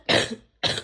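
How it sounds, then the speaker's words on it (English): Two harsh coughs from a person sick with the flu, close and loud, the second following a short pause after the first. "Day 21, I'm coughing again."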